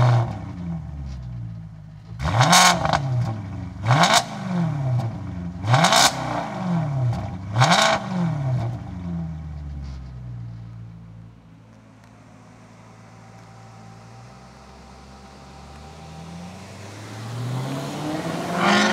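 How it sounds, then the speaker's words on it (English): Maserati GranTurismo with a front-mounted Ferrari-derived V8 revs hard in four loud, rising bursts with gearshift dips between them, then settles to a quieter steady cruise before building again at the end. "I'm very excited to hear this glorious, glorious engine note from the Ferrari-derived V8 up front."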